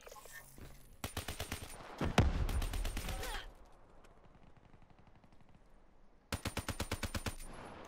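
Rapid automatic gunfire in a video game, two bursts of evenly spaced loud shots, the first around two seconds long with a heavy blast in the middle, then a pause and a second burst of about ten quick rounds.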